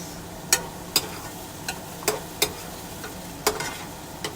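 Tomatoes frying in a pan under a faint steady sizzle, with about eight sharp scrapes and clinks from stirring at irregular intervals, close and moderately loud.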